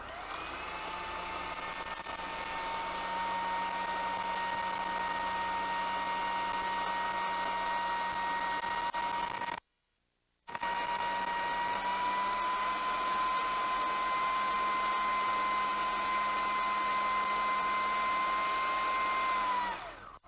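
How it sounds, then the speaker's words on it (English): A food processor blends black bean brownie batter with a loud, steady motor whine for about ten seconds, stops briefly, then runs again at the same even pitch until the end. "So I'm going to turn that on now and blend it till really smooth."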